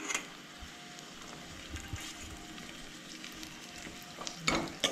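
Onion sizzling and frying in a pan with curry leaves, ginger and garlic for a Goan cowpea and drumstick bhaji, a steady close crackle with a few stirring scrapes and a louder burst near the end, no talk.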